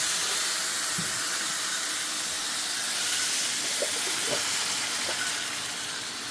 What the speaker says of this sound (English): You see it boiling.